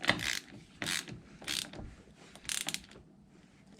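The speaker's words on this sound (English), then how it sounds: "I'm just going to go ahead and use my ratchet for this" A hand ratchet tightens a castle nut on the front end of a Kubota BX tractor during front-end part replacement, giving four or five quiet bursts of rapid clicking at roughly regular intervals, close by, with no talking.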